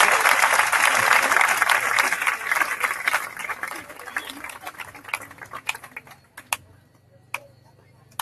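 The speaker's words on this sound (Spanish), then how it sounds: "lo reciban con un aplauso bien, pero bien fuerte" An audience at a festival applauds loudly and densely at first, then the clapping thins to scattered individual claps and fades out.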